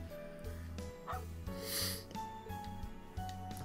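Dog shopkeeper in Trails of Cold Steel 3, a series of short, close barks and yips in a choppy rhythm over soft game background, with no talk.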